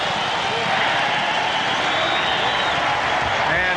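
A racetrack crowd at the 1996 Breeders' Cup Turf roars loud and continuous, a dense wash of cheering close behind a commentator's talk.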